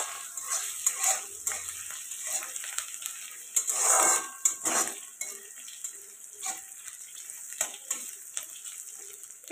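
Grated ginger frying with onions in a pan, a soft sizzle broken by repeated metal spoon scrapes and clinks as it is stirred, one louder burst of sizzling midway.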